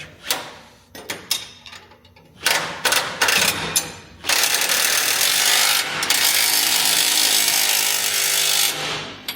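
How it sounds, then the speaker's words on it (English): A Matco 3/8-inch impact wrench fires off several short bursts close by, then a longer continuous hammering run on a spring bushing puller job. "Not real impressed with this fucking Matco 3/8 impact. It ain't real strong"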